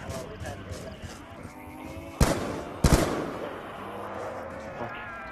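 Gunfire in a zombies video game, two sharp loud shots around the middle over a busy background of game sounds and voices, with people talking throughout.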